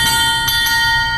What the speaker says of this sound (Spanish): tenemos esta campana que era utilizada para anunciar que ya se iba o ya llegaba el tren